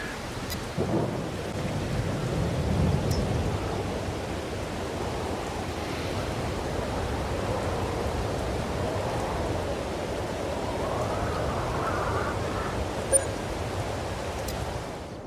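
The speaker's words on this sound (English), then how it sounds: "Let's get through this rain." Rain in the Farming Simulator 22 video game, a steady soft broadband hiss of falling rain that stays even and fairly quiet for the whole stretch, with no voices over it.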